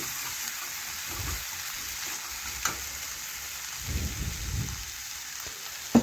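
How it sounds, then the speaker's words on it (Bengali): A mustard-cumin paste with turmeric and chili fries in a pan as it is stirred, giving a soft continuous sizzle with a few scraping strokes and a sharp knock at the end. "এই দেখুন এইভাবে নাড়াচাড়া করে মিশিয়ে নিচ্ছি"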